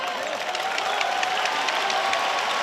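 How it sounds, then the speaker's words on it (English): A broad, steady wash of crowd applause at a basketball game fills the whole stretch, many hands clapping at once with a dense, even texture. "make his way to the bench to a nice round of applause"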